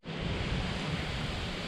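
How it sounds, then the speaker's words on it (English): Strong wind blows outdoors in a garden, giving a loud, steady broadband roar that buffets the microphone without pause. "it is very windy"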